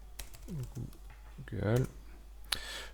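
Rapid clicking of keys on a computer keyboard, typed in a short quick burst, with someone talking over it.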